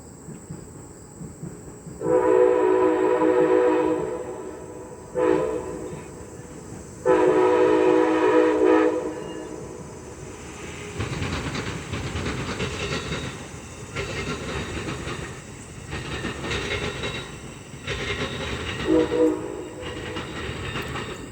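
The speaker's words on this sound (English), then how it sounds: "There's that horn." An Amtrak Charger locomotive passes, its horn sounding loud, sustained blasts in a salute, first two long blasts and then further shorter ones over the steady rumble and clatter of the moving train.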